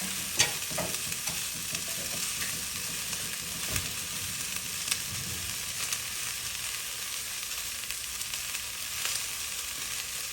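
Chopped green beans sauté in a pan for South Indian poriyal, giving a constant bright sizzle with scattered stirring scrapes and clicks close by.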